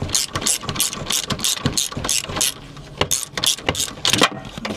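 Hand ratchet being worked during a timing belt job on a Peugeot 206cc, a fast run of sharp metallic clicking bursts in steady rhythm, close and loud.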